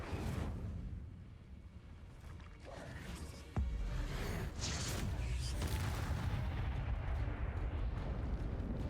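Fiery Incendio spell from Hogwarts Legacy, a sudden loud whooshing burst at about three and a half seconds that keeps roaring and crackling as a dense, sustained rush of flame and rumble.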